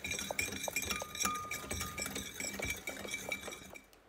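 Liquid egg-free rice-flour cake batter is stirred by hand with the blender switched off, the utensil clinking repeatedly against the container in a steady close rhythm, with no talk.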